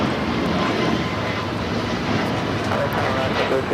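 Aeromexico Boeing 737 MAX 8 jet at LAX, a steady loud engine roar from a taking-off airliner, continuous throughout with a voice talking over it.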